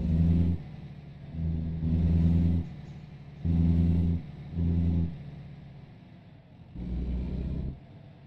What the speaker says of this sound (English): Oh, this truck's loud.